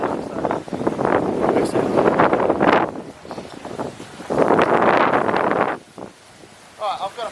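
Strong gusts of wind batter the microphone in heavy bursts, with a brief spoken word and quieter lulls between the blasts.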